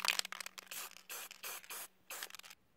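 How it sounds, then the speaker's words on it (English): Several short hissing bursts of an aerosol can spraying screws and chandelier parts matte black, close up, with brief pauses between them and a faint steady hum underneath. "Now we are preparing all the screws and these pieces so that we can spray them"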